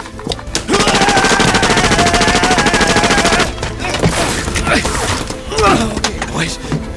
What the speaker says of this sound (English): Cover fire over their head and get in the Huey.